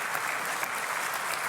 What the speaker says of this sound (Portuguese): a quem eu peço a todos um aplauso para esses colaboradores da Secretaria-Geral da Presidência